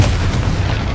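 A Confringo blasting spell explodes in Hogwarts Legacy, a single deep booming blast with a rumbling, sustained low-end body lasting about a second.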